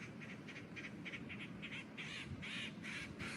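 Birds calling outdoors on a windy morning, a string of repeated faint calls over steady low wind rumble.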